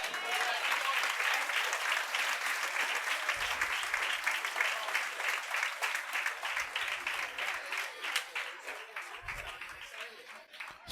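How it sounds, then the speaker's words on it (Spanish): A church youth conference audience applauds steadily for about ten seconds, a dense, sustained wash of clapping that thins slightly toward the end, with a voice speaking through it. "Denle un aplauso al Señor."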